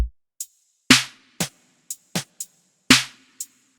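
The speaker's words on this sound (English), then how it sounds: "for the verses I added these closed hi-hats that sound like this" Closed hi-hats in a witch house beat tick in short, crisp bursts, interleaved with a few heavier drum hits in a slow, syncopated pattern, close and clean with no talking.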